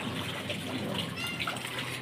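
Water splashing and running as children bathe on a rooftop, a faint steady wash of pouring and sloshing with no clear pauses.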